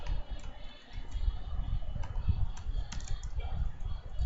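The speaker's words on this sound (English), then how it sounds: "I'll just type it here" Light typing on a computer keyboard, a soft steady patter of key taps with occasional sharper clicks, faint and close, with no talk.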